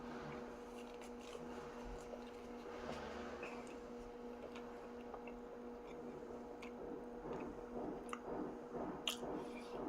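Someone chews a bite of food close to the mic with soft, wet, squishy mouth sounds. The sounds repeat irregularly and stay very quiet over a faint background hum, with no one speaking.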